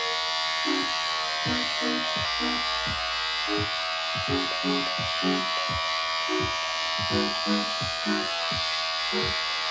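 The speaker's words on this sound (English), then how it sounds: "I'm shaving all these areas where hair often grows and it looks not that nice" An electric hair clipper set to zero millimeters buzzes steadily while shaving hair during a self haircut, with irregular clicks and knocks over the constant hum.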